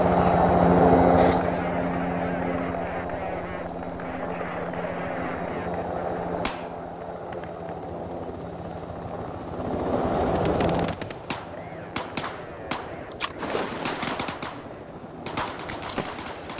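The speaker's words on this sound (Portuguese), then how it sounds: "Helicóptero visual." A helicopter's steady rotor drone in the game Arma 3 fills the first part, followed by a burst of sharp gunfire-like cracks and pops, all with a synthetic game-like quality.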